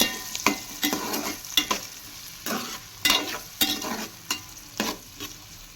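Curry leaves frying and being stirred in a pan for a tomato curry, a bright sizzle broken by repeated scraping stir strokes in an uneven rhythm, close and fairly quiet, no talking.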